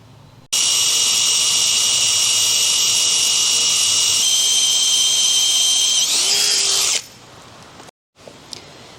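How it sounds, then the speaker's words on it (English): A drill bores through an alloy side stand from a Ducati 848 Evo track bike in one loud, sustained, high-pitched whine lasting about six seconds. The tone shifts as the bit cuts through, then it stops, leaving quiet handling noises. "Clamp will come off and I'll commit and start drilling"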